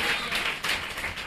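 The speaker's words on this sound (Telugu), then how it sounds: "గట్టిగా చప్పట్లు కొట్టండి" A church congregation claps loudly together, a dense, steady wash of hand claps with slight swells running through the whole moment, close and full, with no voices standing out.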